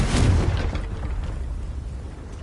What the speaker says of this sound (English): Descendo! Defendo! Confringo!